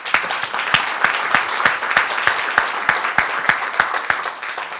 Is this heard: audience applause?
yes